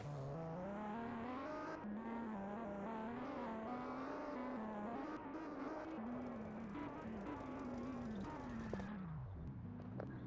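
A car engine in a video game drones steadily throughout, its pitch rising and dipping as it revs and shifts, with a brief slide down near the end and no one talking.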